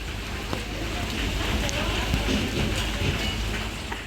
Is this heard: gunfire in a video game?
no